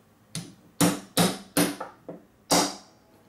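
Small hammer tapping a spring guide stopper into an airsoft Well MB01 (T96) rifle, five or six sharp close metallic knocks at uneven intervals with no talking.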